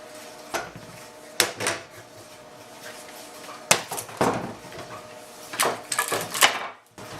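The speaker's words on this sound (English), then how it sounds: "I can now start taking off my clamps" Metal clamps being loosened and lifted off a glued-up edge-grain cutting board panel: a scattered series of sharp clanks and knocks with a little scraping and rattling between them, close by and with no voices.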